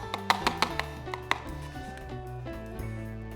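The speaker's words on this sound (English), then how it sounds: "We're just gonna grate it on through the microplaner." Fresh ginger rasped against a microplane in a few quick, sharp scraping strokes at the start, then quieter with faint kitchen noise and music-like tones underneath.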